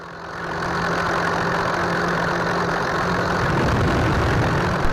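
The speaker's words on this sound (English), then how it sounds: "You're listening to the simulated sound of a Warbird engine inside an electric RC plane." Simulated warbird piston-engine rumble from a sound module inside an electric RC plane, a steady close loud drone with a low hum that rises in the first half second and holds without break.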